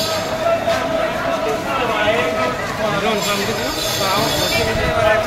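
A train idles and rumbles at a station platform with steady rail noise and a faint squeal, while voices talk nearby throughout.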